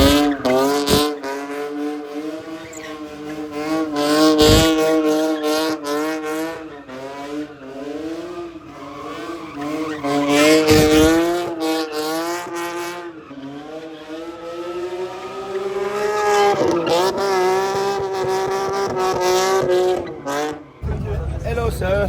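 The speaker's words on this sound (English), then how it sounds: "there's so many cars pulling into the spot at the same time" Many cars rolling into a crowded car meet in Wroclaw, Poland, with engines droning and revving steadily throughout and bursts of tire squeal, loud and close, while people talk over the vehicle noise.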